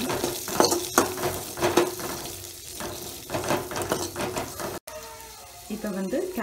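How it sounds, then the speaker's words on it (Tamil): Onions sauté in oil in a kadai, with spoon scrapes, clinks and light sizzling in irregular bursts, followed by a brief cut and a voice speaking near the end. "இப்போ வந்து வெங்காயம் ஆட் பண்ணிக்கிறோம். வெங்காயம் நல்லா வணக்கி வச்சுக்கோங்க."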